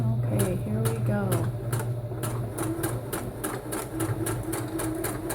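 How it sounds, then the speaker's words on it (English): Sewing machine stitching a plain dart in fabric, a rapid regular clatter of needle strokes running close and steady, with a voice heard briefly near the start. "So let's sew this down."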